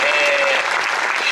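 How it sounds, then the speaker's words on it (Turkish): Audience at the end of a theatre play breaks into sustained, dense applause, loud and steady throughout with no pauses. "Kocaman bir alkış istiyorum"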